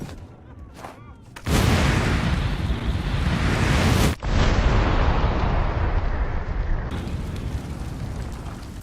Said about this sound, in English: The Incendiary Grenade.